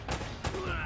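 Gunfire in Uncharted: Drake's Fortune, two sharp shots about a third of a second apart, loud and close, with a faint ringing tone after them.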